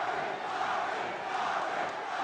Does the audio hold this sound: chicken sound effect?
no